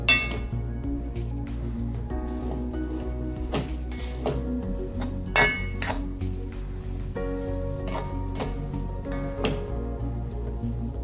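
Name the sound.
mixing roasted rava in a pan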